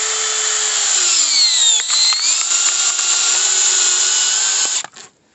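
A cordless drill drives a log-splitting bit into firewood roughly 10 cm thick, a loud steady whine with grinding wood that dips under load, then cuts off abruptly near the end.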